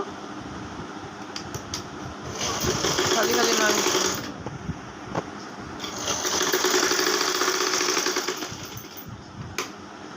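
A sewing machine stitches a baby pant, running in two close bursts separated by a pause, with someone talking around the stitching.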